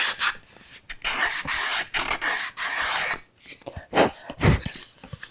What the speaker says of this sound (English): It's really best just to do it by hand with a piece of sandpaper or maybe even a little block